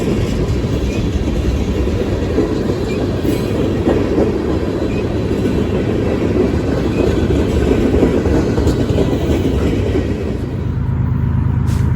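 A long mixed manifest freight train rolls past close by, its wheels rumbling and clattering steadily with a constant low roar throughout.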